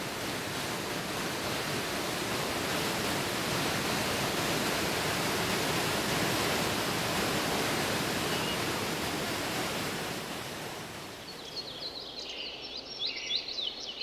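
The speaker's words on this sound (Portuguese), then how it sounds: "Fui depois ver a grande cascata ao salto do Tietê." The great waterfall at Salto do Tietê roars as a steady, dense rush of falling water, loud and unbroken, easing slightly toward the end.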